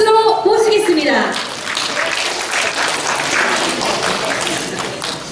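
Audience at a community charity event welcoming a National Assembly member with loud applause, a continuous dense clapping that rises after a speaker's voice trails off at the start.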